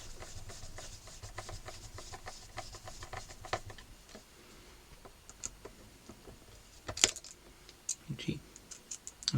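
Steel screws are driven into the control plate of a Harley Benton Telecaster, heard as close, faint scraping, clicking and small metallic ticks with occasional sharper knocks.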